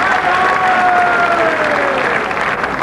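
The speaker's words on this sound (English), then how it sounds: "Oh, the applause there." A crowd at a 1988 women's bowls final breaks into loud, sustained applause after a good lead, steady clapping throughout with a commentator's voice faintly over it.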